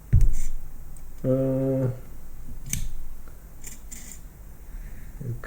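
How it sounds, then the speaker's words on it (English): An aircraft instrument counter clicks as a front knob turns its axle, giving a few sharp, isolated mechanical ticks spread over several seconds, close and crisp. A brief voiced hum sounds between them. "I turn that axle from the front knob. You can hear the clickety-clack."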